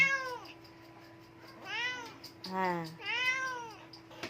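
Pet cats meow up close in four drawn-out, rising and falling calls spaced across a few seconds against a faint steady background hum.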